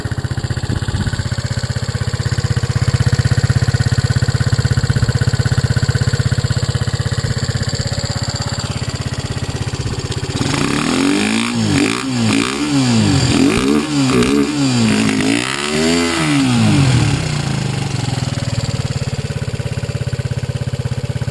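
A 1976 Honda CB125S motorcycle engine, in imperfect condition, idles steadily and close by after a kickstart, with a soft, even putter that stays level throughout, and no voices heard.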